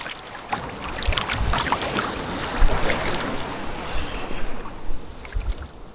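Strong sea waves rolling onto a beach, a steady loud wash of surf with rising surges and splashes close by, no speech over it.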